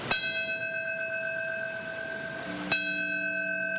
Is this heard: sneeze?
no